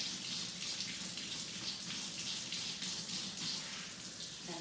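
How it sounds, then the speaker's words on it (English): Warm water runs steadily from a sink faucet for handwashing, a continuous close splashing stream with no talking over it. "I'm going to get warm water."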